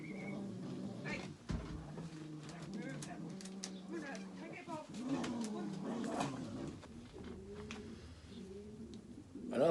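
A two-year-old bar cock racing pigeon at a show, low throaty coos running under a voice talking close by, with a rising burst of noise at the very end.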